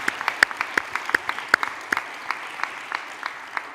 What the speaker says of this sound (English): Let's just do one more round of applause.